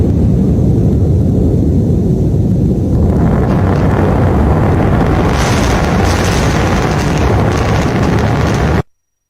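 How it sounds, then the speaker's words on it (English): Double sonic booms come through as a loud, sustained, deep rumbling roar that fills the air for several seconds, with the upper hiss growing midway before the sound cuts off abruptly. "Double sonic booms."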